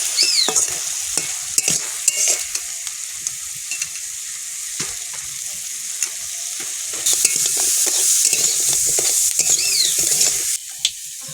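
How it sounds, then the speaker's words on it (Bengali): Crab cooking with Malabar spinach and potato in a pan, a steady close sizzle with repeated scraping and clattering strokes as it is stirred throughout. "এই তো কাঁকড়া পুঁই শাক রান্না করছি।"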